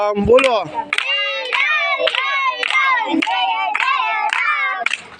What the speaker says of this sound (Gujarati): હાલો તાળી પાડો